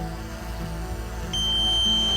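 A steady high electronic tone from a DJI Mavic 3 drone switches on partway through and holds, sounding over a low hum in the room.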